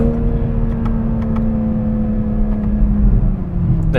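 The BMW-built inline-six in a 2021 Toyota Supra drones under load from inside the cabin, a steady low exhaust tone that swells slightly as the car accelerates, with no talking.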